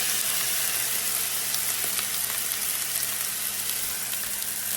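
Ham and onions go into hot fried rice in a pan, setting off a loud, continuous sizzle that stays dense and hissing throughout with faint crackles.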